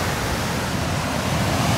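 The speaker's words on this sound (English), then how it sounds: "the waves are pretty rough" Rough ocean waves at Bells Beach, Australia, a dense, continuous roar of surf that holds an even level throughout, with no voices.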